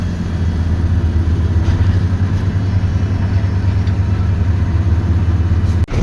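A heavy goods truck loaded with soil pulls away on a forest road, its deep diesel engine rumbling steadily and close throughout, with a brief dip near the end.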